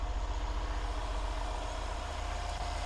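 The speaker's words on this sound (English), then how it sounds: "While the engine is still cold, the RPMs are a little higher" A cold 2013 Mercedes-Benz E550 4Matic AMG Sport engine idles at slightly raised revs, a steady low rumble with a fast even pulse and no talk.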